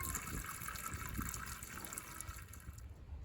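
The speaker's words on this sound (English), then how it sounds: "You can either empty the old windshield washer fluid or add as needed." Winter windshield washer fluid is poured into a car's reservoir, a faint, continuous gurgling trickle of liquid heard close up for a few seconds.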